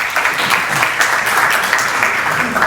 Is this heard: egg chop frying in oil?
no